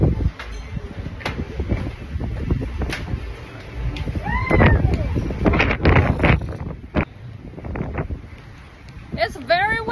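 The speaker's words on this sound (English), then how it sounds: "It's very windy tonight." Gusty night wind buffets the microphone on a cruise ship deck while people talk and shout excitedly nearby, with a few squeaky, meow-like sounds toward the end.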